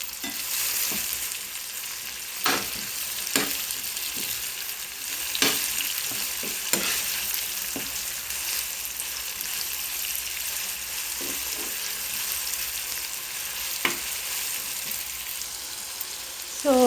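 Ginger garlic paste frying in a pan for chicken curry, a continuous soft sizzle under repeated clicks and knocks of a spoon against the pan, steady and close with no talking.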